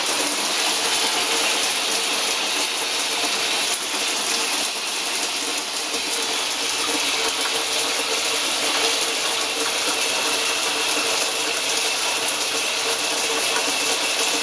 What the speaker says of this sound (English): Pump is turned off, and let's see how long it takes before it cuts back on.